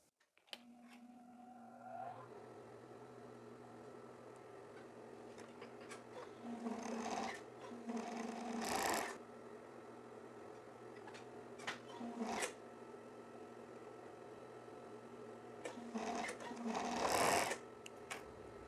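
A sewing machine stitches the shoulder seams of a women's plaid shirt, running in several short bursts of varying length between quiet pauses.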